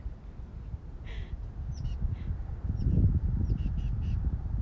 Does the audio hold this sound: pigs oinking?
no